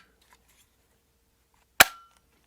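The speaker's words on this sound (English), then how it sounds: "we're going to slide it right into these 4 prongs here" A Craftsman oscillating tool attachment clicks into place with one sharp, loud snap that follows a quiet pause and rings out briefly.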